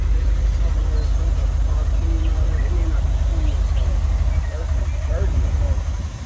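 A 1987 Oldsmobile Cutlass engine running at a steady idle, a constant low rumble close by, with speech and faint bird chirps over it.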